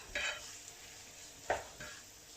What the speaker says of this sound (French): Et je vais mettre dans la poêle. Je mélange et je vais laisser cuire pendant 5 minutes.